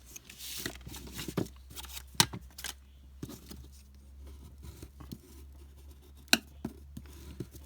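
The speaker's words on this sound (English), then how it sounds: "So I'm just going to cut this down to be about the right width" Scissors cut a strip of paper for a handmade ring journal, making close, crisp snips and papery rustles in irregular bursts separated by quiet pauses.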